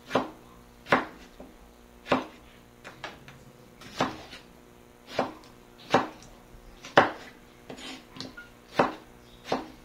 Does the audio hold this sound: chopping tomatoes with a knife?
yes